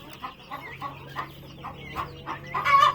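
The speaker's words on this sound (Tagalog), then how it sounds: "Ito na yung mga sisiw natin." Young turkey chicks peeping and clucking close by in a short, steady run of small calls over a low hum.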